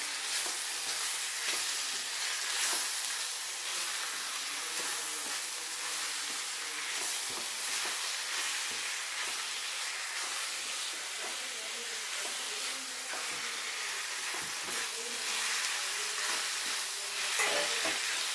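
Egg roast ingredients, tomato among them, sizzle and get stirred in a hot pan, a steady close frying hiss with soft scraping stirs throughout and no talking.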